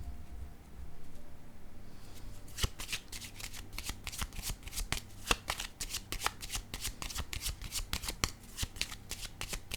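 Playing cards are shuffled and handled close up: a dense run of crisp riffling snaps and flicks that goes on for several seconds. The sound is quiet and carries no voices.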